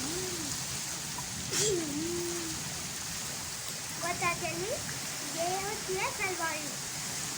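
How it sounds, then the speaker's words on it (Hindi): Dense, steady hiss of heavy stormy rain pouring down with strong wind in a village, with someone talking intermittently over it in Hindi. "बहुत ज़्यादा तेज़ बारिश है, तूफ़ानी बारिश है और हवा बहुत ज़्यादा चल रही है साथ।"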